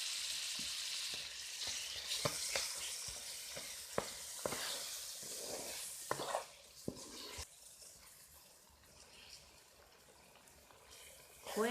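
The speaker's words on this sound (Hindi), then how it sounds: "खोया हमने डाल दिया है और इसे भी सूजी के साथ भूनते जाएंगे।" Semolina being roasted with khoya and sugar in a pan for fig halwa: a soft, low sizzle with repeated spatula taps and scrapes, fairly quiet and close, with faint speech at times.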